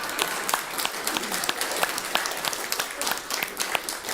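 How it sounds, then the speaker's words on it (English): An audience claps steadily after a talk, a moderately distant, even patter of many hands with occasional sharper individual claps standing out. "now is the time that we love clapping"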